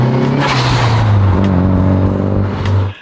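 A car engine revs hard after a tune-up with a compression test, new spark plugs and fresh Pennzoil fluids, giving a loud, steady, close-up roar with a strong low drone that holds for about three seconds before cutting off.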